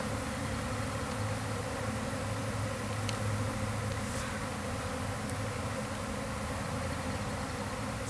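A bee swarm leaving the hive fills the air with a dense, continuous buzzing drone, loud and even throughout, with no voices.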